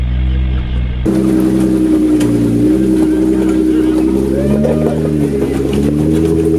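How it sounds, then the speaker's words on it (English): An off-road vehicle on Nitto tires with beadlock wheels climbs over a dirt hump on a trail; the engine starts abruptly and drones at a steady, loud pitch that rises and falls under load, with voices alongside. "The Nitto tires and the trail ready bead locks locked up and got us up and over the hump there."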